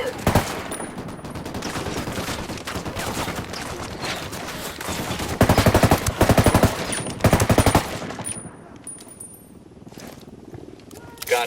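Video-game firefight in Ghost Recon Wildlands: near-continuous machine-gun fire rattles throughout, swelling into loud, dense bursts midway before thinning out, with voices calling out amid the shooting.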